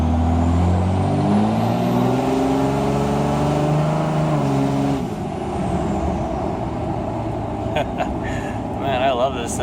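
A single cab Cummins diesel truck drives steadily with a deep, loud engine drone that eases partway through into rougher road rumble and a few brief clicks and squeaks near the end.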